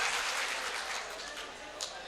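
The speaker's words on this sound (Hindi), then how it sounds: "दोबारा एक बार तालियां बजा दीजिए कि आप लोग सुनने के मूड में हैं" An audience at an Urdu mushaira poetry gathering applauds in a dense, steady wash of clapping that fades slightly toward the end.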